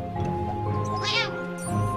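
A short cat meow in the video game The Purring Quest rises over a busy backdrop of tonal game music and effects, loud and close, lasting under half a second.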